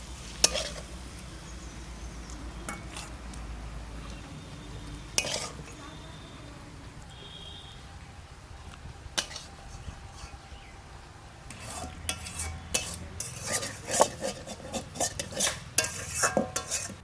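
Fried eggplant is stirred in a pan and lifted out, with soft sizzling under clinks and scrapes of a utensil against the pan that grow busier toward the end.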